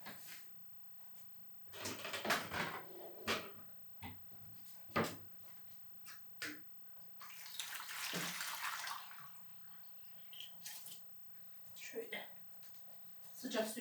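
Dishes being washed by hand in a home kitchen sink, with faint running water, clinks and clatters of crockery in scattered bursts, while someone talks throughout at low level.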